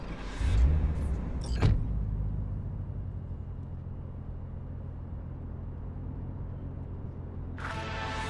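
A car in the game Cyberpunk 2077 starts off with a low engine rumble, a couple of mechanical thumps near the start and a steady drone throughout, brief bright noises at the beginning and end.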